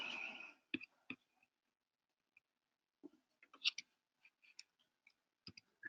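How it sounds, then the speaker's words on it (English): Slow, sparse typing on a computer keyboard during a general assembly meeting, with scattered single key clicks and short bursts separated by pauses, close and fairly quiet, after a brief noisy moment at the start. "people online who can't see the fact that I'm typing, which is glacially slow"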